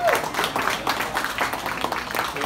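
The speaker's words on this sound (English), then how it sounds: "Start clapping, guys, for the hilarious Dan Glazer." Live comedy-show audience clapping for a comedian, a dense, continuous patter of many hands filling the room at steady loudness.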